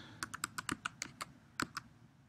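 Typing on a computer keyboard while entering a name into a search field: a quick run of about a dozen crisp key clicks in an uneven rhythm, close and clear with no talk.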